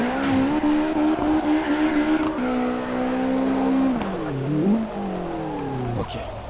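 Car drifting in CarX Drift Racing, with a loud continuous tyre squeal riding over a revving engine whose pitch sweeps up and down through the slides; no talking.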